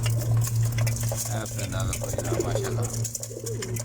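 Pigeons kept for flying coo in a steady low, throbbing drone at a pigeon trap setup in Saudi Arabia, close and continuous while someone talks over them.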